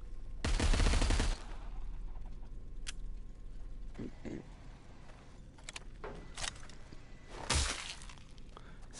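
Bursts of rapid gunfire in the Arizona Sunshine video game, a loud opening volley followed by scattered sharp shots and another burst near the end, with players' voices between them.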